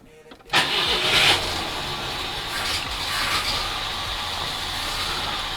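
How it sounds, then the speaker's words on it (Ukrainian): A Moskvich 2141 engine, in need of repair, cranks briefly from cold on the choke, catches and roars up, then settles into a steady idle that continues to the end. "Двигун запущено."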